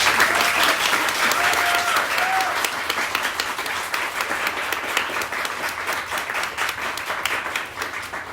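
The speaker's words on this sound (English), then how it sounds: "I think we should start with a round of applause" An audience gives a round of applause at a university book launch, sustained crowd clapping that starts full and gradually thins and softens toward the end, with no one speaking.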